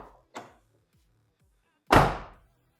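A light click, then a single deep, solid thud of a 1994-98 Ford Mustang SN95 car door fitted with sound deadener closing, ringing off briefly afterward.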